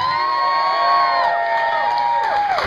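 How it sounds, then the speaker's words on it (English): At a Lady Gaga night, a crowd cheers for Vince with loud whoops and high gliding shouts that rise and fall over a steady roar of voices. "So give a round of applause for Vince."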